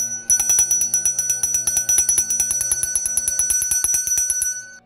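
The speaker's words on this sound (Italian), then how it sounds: "Angelica con un campanello chiamò i due buttafuori" Small hand bell rung rapidly and continuously, bright metallic rings repeating in a fast even rhythm, close and loud, with no voices.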